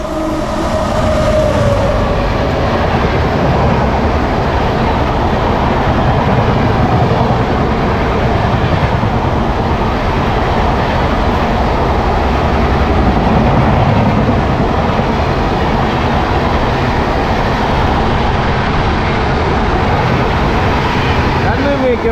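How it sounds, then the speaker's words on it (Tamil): A train on the opposite track roars past close by during a ride on the Raptisagar Express, a loud, continuous rush of rumbling wheels and rattling cars that lasts throughout. "ஆப்போசிட்டில் இன்னொரு ட்ரெயின் வரான்."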